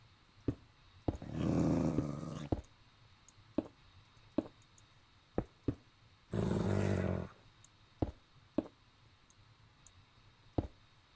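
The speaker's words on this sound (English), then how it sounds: "Those dogs don't really like me being here." Dogs in a video game growl in two loud, rough bursts of about a second each, with sharp clicking ticks scattered between them.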